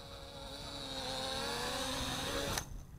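An Eachine E58 folding camera drone hovers low and descends for an automatic landing, its small rotors giving a steady high buzzing whine that cuts off abruptly near the end.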